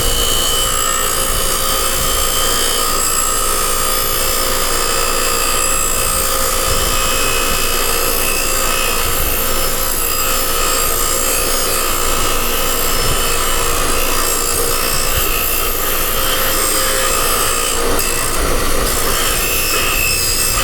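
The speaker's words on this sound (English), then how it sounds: "let's take this over to the bench grinder, get it cleaned off, get rid of the paper" A bench grinder's wire wheel scours old gasket paper and rust off an exhaust part, giving a loud, continuous harsh grinding roar that runs steadily for about twenty seconds with no talking.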